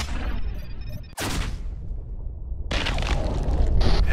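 A single loud rifle shot fired while hunting, a sharp sudden blast followed by a booming echo that rolls away, then outdoor noise rising again afterward.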